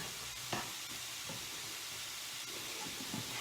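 Pork caramelizing in a pan gives a soft, steady sizzle and hiss, with a few faint scrapes and taps of stirring, quiet and close.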